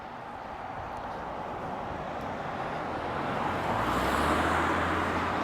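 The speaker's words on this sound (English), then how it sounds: "Quite a busy street over here, guys. A few cars have gone down." Steady roadway noise on a busy suburban street in Perth, Western Australia, with a car swelling closer and passing near the end, its low engine rumble rising over the constant traffic wash.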